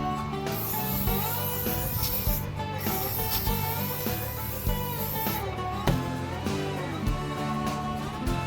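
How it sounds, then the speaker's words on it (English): Several spray bursts of WD-40 hiss onto an 8-inch Wright adjustable wrench, close and fairly loud, with short pauses and faint rubbing in between. "let's give it a little WD-40"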